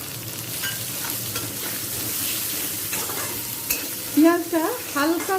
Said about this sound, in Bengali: লাল করে ভেজে নেব হালকা লাল করে ভাজা হয়ে গেছে